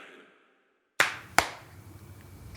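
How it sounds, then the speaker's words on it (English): Two sharp, close hand claps from podcast hosts, spaced under half a second apart rather than together, each ringing briefly after near silence. "That was a very out of sync clap."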